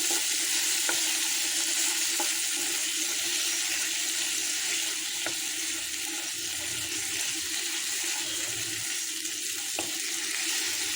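Small cut pieces of shrimp frying in a pan, a steady, loud broadband sizzle running continuously with a few faint clicks of stirring and no talk.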